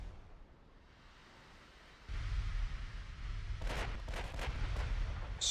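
Naval gunfire from the warship battle game Ultimate Admiral Dreadnoughts: after a quiet stretch a low rumble swells, then a quick cluster of sharp, booming shots rolls over it, heavy and close.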